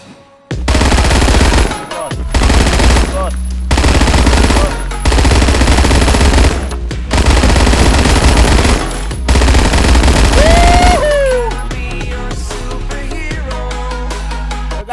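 Sustained bursts of PPSh submachine gunfire from Roblox Phantom Forces, loud and dense, in long automatic strings broken by short gaps, with music or effects continuing after the shooting stops.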